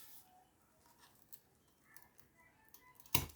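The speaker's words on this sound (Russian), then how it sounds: "Обрезаю вот эту трубочку." Scissors snip through a rolled newspaper tube while weaving a basket border, a few faint clicks building to one sharp, louder cut near the end, close by and without talk.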